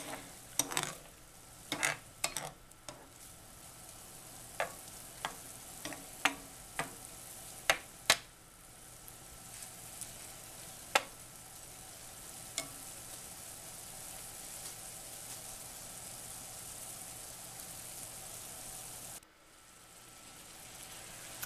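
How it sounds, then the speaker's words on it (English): Seafood curry stir-fry with onions sizzles in a pan, a steady close hiss running for most of the stretch with scattered sharp clicks and taps of stirring early on, then cutting off near the end. "It's sizzling."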